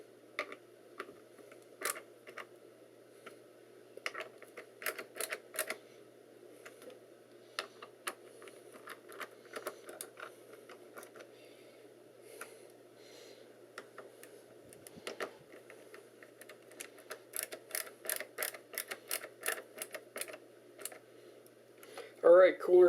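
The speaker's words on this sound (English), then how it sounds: "Let's get them all tightened up as much as they can go." Screws being tightened by hand while a PC CPU cooler is mounted: faint, irregular metallic clicks and ticks come in scattered bursts over a low steady hum, growing busier toward the end.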